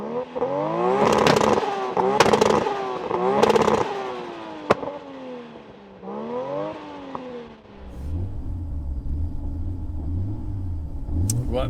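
Drag car engine revving repeatedly in sharp bursts, rising and falling several times, then settling into a lumpy, rhythmic idle burble.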